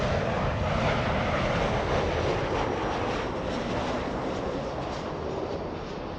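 A jet airliner arriving at LAX airport, a continuous broad roar of engines that holds steady and fades slightly toward the end.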